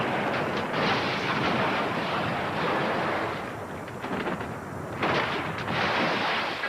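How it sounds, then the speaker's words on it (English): A movie gun battle between tenement buildings: a loud, continuous roar of rumbling gunfire and blasts that surges and dips throughout, with no voices. "There's also an amazing gun battle that takes place between two tenement buildings."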